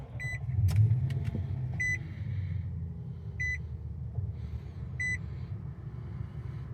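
A 2024 Nissan Titan PRO-4X pickup sits parked as its push-button ignition is pressed, with a low engine rumble and a swell near the start, then several short electronic chimes spaced evenly over steady idling.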